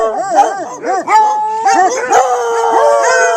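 A pack of foxhounds at a Boxing Day hunt howls and bays continuously, overlapping drawn-out cries with yelps mixed in, loud and close throughout.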